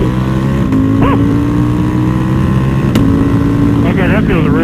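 Motorcycle fitted with an Akrapovic exhaust and a Bren Stage 2 flash, its engine droning loud and steady at high RPM as it pulls, with a few short pitch swings, while people talk over it.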